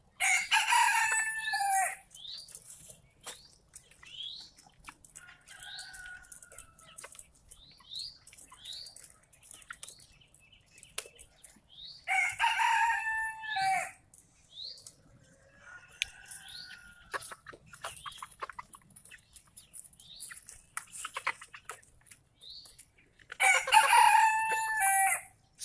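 A rooster on a farm crows loudly several times with long gaps between calls, answered by fainter crowing and clucking from other fowl, with scattered chirps in the quiet stretches.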